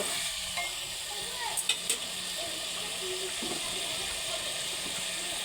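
Red lentils and spices are stir-fried in a pan for dhaba-style ghugni, giving a steady close sizzle and hiss of frying with a few soft stirring scrapes and no talk.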